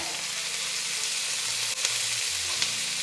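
Onions sautéing in a pot for chicken biryani, a steady close sizzle of frying with faint stirring clicks and a couple of brief utensil knocks.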